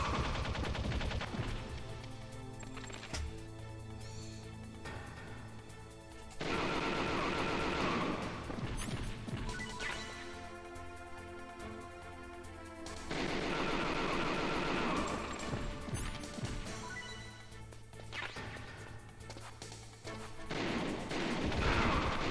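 Gunfire in the video game Metal Gear Solid, dense bursts of rapid shots and crashes recurring in loud waves that swell and ease across the stretch, with no speech heard.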